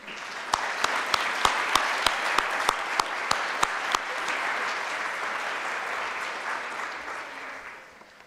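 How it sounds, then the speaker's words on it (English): An audience applauds winners at a county conservation district awards banquet, with sustained clapping filling the room, a few sharp claps standing out early on, and the applause fading toward the end. "can you give a round of applause to our winners?"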